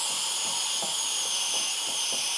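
Steam hisses continuously from the release valve of a WMF Perfect 4.5-litre pressure cooker cooking beef goulash, a loud, close, steady jet without pause.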